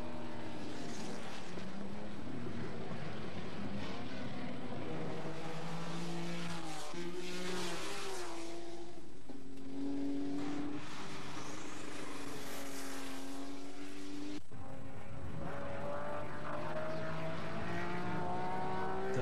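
A Porsche 935 race car screams down the straight at Le Mans in 1976, its loud engine note climbing through gears with sharp shifts, mixed with the roar of other cars, the whole passage dense and sustained.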